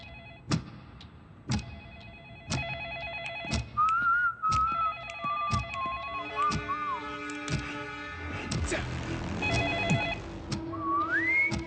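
A telephone rings repeatedly and goes unanswered in a thriller scene, with bright periodic ring bursts over music and whistling tones, fairly clear and close.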